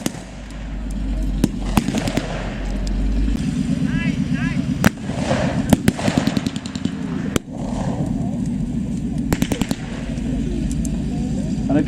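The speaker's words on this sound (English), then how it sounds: "That tank mounted machine gun can be causing havoc with the Germans there." A tank-mounted machine gun fires rapid bursts during a WW2 battle re-enactment at Fortress Wales, sharp cracks echoing outdoors over engine rumble and scattered louder blank shots, with a commentator talking over the action.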